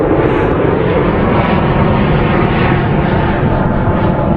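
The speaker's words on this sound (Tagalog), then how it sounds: "Sunod-sunod din ang jet fighter." A jet fighter roars overhead, a loud, continuous, broadband rumble that holds steady and close throughout with no voices.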